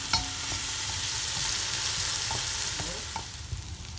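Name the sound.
tomato frying in a pan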